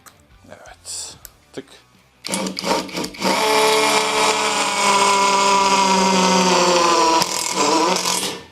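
After some brief clattering and faint talk, an Assur power driver whirs loudly and steadily for several seconds driving a trapezoid screw, then stops with a few clicks.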